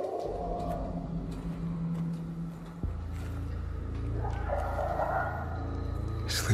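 A dog barks in a video game, a few yips and woofs over a low rumbling game soundscape with shifting tones, moderately close and mixed under the background.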